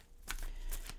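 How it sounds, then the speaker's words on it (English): Angel Oracle cards being shuffled up close, two quick crisp riffling bursts, soft and brief. "I'm going to shuffle and deal you an Angel Oracle card"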